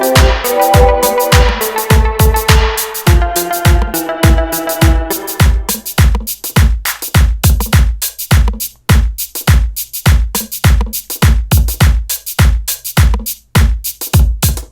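GarageBand virtual drummer Leah plays the Supernova pattern for a Soulection-style beat: punchy kicks and crisp snares in a steady loop, loud and close, with a tonal keyboard part over the first few seconds before the drums carry on alone.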